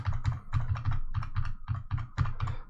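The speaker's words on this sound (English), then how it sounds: "in this case I will type my password" A password being typed on a computer keyboard, a brisk, even run of about a dozen close, crisp key clicks with a soft thump under each press, no voices.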